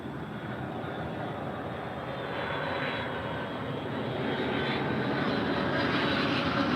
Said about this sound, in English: Delta Airlines 515 coming in from Atlanta